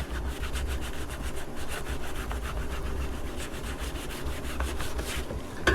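Car bodywork being rubbed down by hand with the rough side of an abrasive pad, a steady close scrubbing rasp in rapid back-and-forth strokes that continues unbroken throughout, with no voices.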